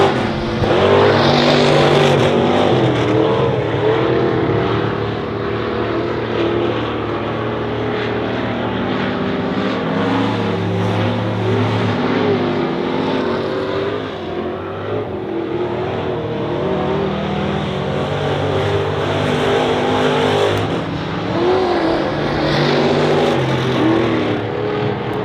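Stock cars racing around the Honor Speedway oval, engines droning loud and steady as the pack passes, the roar swelling and easing over a long stretch without talk.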